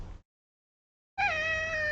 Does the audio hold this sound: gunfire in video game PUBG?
no